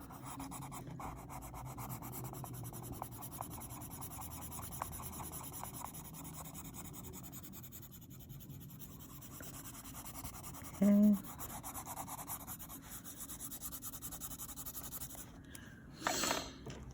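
Colored pencil wax is rubbed into paper to flatten its tooth, giving a soft, continuous scratchy rubbing with a brief spoken word near the end.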